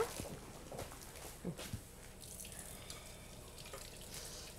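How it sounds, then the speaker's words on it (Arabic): Hands being washed under a running kitchen tap, a quiet trickle of water with soft splashes and a few irregular bursts as the hands move through the stream. "نغسل برك يدي"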